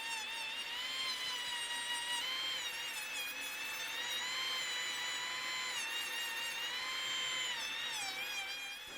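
A high-pitched power drill whines steadily and continuously, its pitch wavering slightly as it grinds into antler while carving, loud and close.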